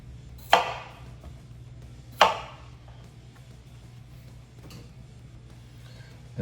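A knife chopping the ends off fresh cucumbers on a cutting board: two sharp, close cuts about two seconds apart, then a fainter third tap, over a low steady hum.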